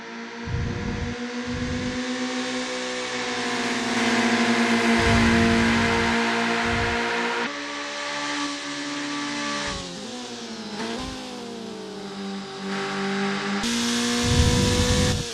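Suzuki Cappuccino kei car engine lapping Tsukuba Circuit in Assetto Corsa, revving high and steady with pitch climbing and dropping through gear shifts and braking, loud and close throughout with no talk.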